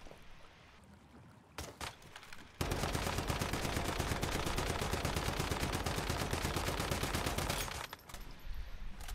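A SCAR rifle in the Once Human video game fires a long, unbroken full-auto magazine dump, loud and close, after a couple of single shots beforehand.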